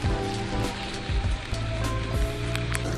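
Spring rain falling in Sapporo, Hokkaido, during cherry blossom season: a steady, dense patter and hiss runs throughout, with a low rumble underneath and no voices.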